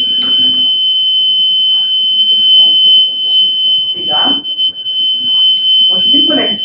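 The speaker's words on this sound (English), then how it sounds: "I have a buzzer in this pipe." A continuous high-pitched buzzer inside a pipe whines steadily throughout while a person talks over it, the tone holding unbroken.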